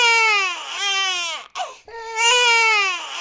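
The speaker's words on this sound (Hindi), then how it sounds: "तभी अंदर से बच्चे के रोने की आवाज आती है।" A newborn baby cries loudly and close by in long, wailing bursts. The cry breaks off for a short gasping pause, then starts again at full strength.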